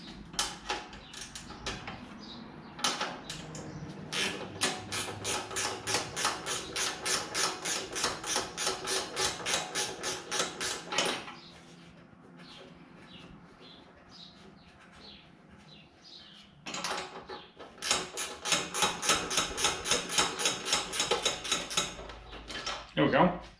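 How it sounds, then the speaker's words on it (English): A 10mm swivel wrench ratchets on a bolt of a snow blower in two long bursts of rapid, regular clicks separated by a quieter pause. The ticking is fairly close and soft, with faint background sounds between. "I'm going to use a little 10mm swivel wrench to get this one out"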